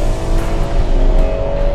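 A Ferrari 12Cilindri V12 revs hard on a mountain road, its engine note a loud, close, steady high-pitched roar that sustains throughout the short burst.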